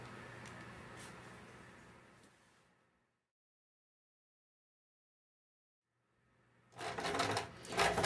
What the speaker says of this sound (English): I'm going to sew completely around the entire piece. That's going to be a top stitch, a finishing stitch